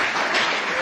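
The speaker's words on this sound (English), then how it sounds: "Let's give them a round of applause." A room of attendees at a COP 28 climate panel session breaks into applause for the panelists, a dense, even patter of many hands in a brief burst.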